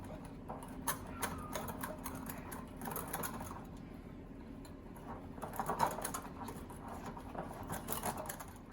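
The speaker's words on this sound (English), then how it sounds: "Then with a small whisk, I'm just gonna make sure it's well combined." A small whisk stirs cream into flour in a bowl for a cheesecake, giving a steady, soft rapid clicking and scraping that keeps going close by throughout, with no talking over it.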